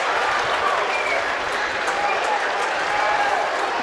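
A rugby league crowd at a Batley Bulldogs match applauds a try, giving sustained, dense clapping that fills the whole stretch at an even level. A commentator's voice runs underneath.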